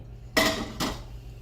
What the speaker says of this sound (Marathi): आणि पुन्हा असं चांगलं स्मॅश करून घ्यायचं.